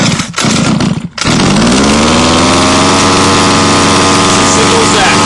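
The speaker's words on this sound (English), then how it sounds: "We're going to pull the pull start just a couple times until we hear it fire." HPI Baja RC car's small gas engine pulled over a couple of times, then firing and settling into a loud, close, buzzy steady run.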